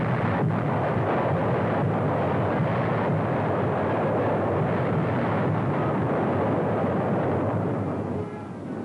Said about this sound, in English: American Fifth Army artillery hammered back.